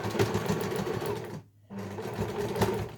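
A sewing machine stitches fabric for an eco shopper bag, whirring in a steady close run, stopping briefly midway, then resuming.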